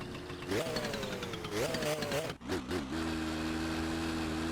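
A moped engine in the video game My Summer Car is kick-started, revving up twice in rising pulls, sputtering briefly, then settling into a steady buzzing idle, loud and close.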